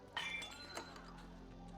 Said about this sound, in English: That's the 3rd glass this week, Reggie.